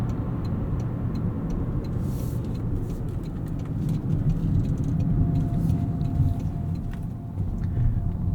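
A 2023 Toyota Corolla Hybrid XLE drives along, heard from inside the cabin as a steady low road and engine rumble with light ticking, fairly loud and unbroken.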